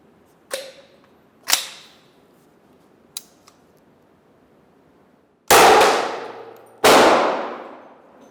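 40mm training rounds strike a target in a string of sharp, ringing impacts: three short cracks, a faint tick, then two louder blasts with long decaying tails, heard outdoors with no talk.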